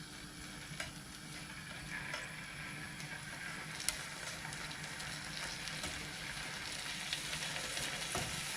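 British back bacon frying in a pan, a steady close sizzle and crackle running evenly throughout with occasional small ticks and pops, no voices.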